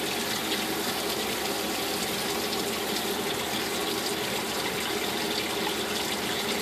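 Hot water runs steadily from a kitchen sink tap into a sink where canning jars are being warmed, a continuous close, even rushing gush with no pauses or voices.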